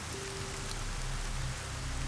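Heavy rain pours down steadily, a dense, loud, continuous hiss of drops on surfaces with no break, filling the whole stretch without any voices.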